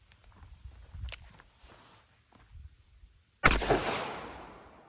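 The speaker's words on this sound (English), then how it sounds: "that was a 357 Magnum" Single .357 Magnum 157-grain jacketed soft point round fired from a Smith & Wesson R8 revolver with a 5-inch barrel, one sharp loud report with a trailing echo after faint outdoor ambience and light footsteps.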